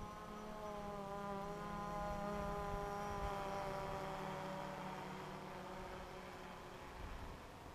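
A drone passes overhead above a playground, its steady, fairly faint propeller buzz holding for several seconds before the pitch sags slightly as it moves away.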